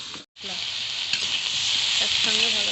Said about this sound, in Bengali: বাঁধাকপি সব একসঙ্গে ভালো করে ভেজে নেব।